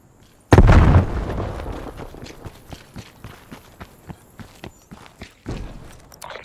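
A grenade explodes in Call of Duty Black Ops Cold War team deathmatch on the Diesel map, a loud sudden boom followed by a string of quick footsteps and smaller pops, then another thump near the end.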